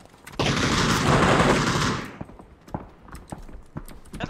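Gunfire in the video game PUBG: a dense burst of rapid automatic shots lasting about two seconds, followed by scattered single shots and sharp clicks.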